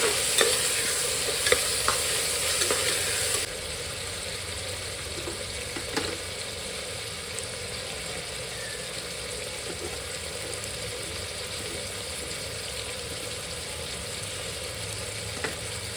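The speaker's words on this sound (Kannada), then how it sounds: "ಸೊ ನಾನಿಲ್ಲಿ ಟೊಮೊಟೊನ ಕಟ್ ಮಾಡಿಕೊಂಡು ಆ್ಯಡ್ ಮಾಡ್ಕೊಂಡಿದ್ದೀನಿ." Chopped tomato stirred and fried in a pan for a rice dish, a steady sizzle with scraping spoon strokes throughout, louder in the first few seconds and then settling into a quieter continuous fry.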